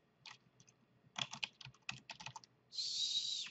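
Keys clacking on a computer keyboard while a name is typed for a gazebo model in SketchUp, in short bursts of quick taps followed by a sustained high hiss near the end.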